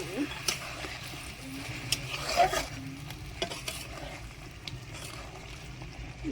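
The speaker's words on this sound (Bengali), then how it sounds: "এবার এর মধ্যে দিয়ে দেব ডিম" Eggs go into a pan of simmering potato curry, giving soft stirring and bubbling noises with a few brief clinks and a light splash, under a faint background murmur.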